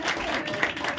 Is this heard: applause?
yes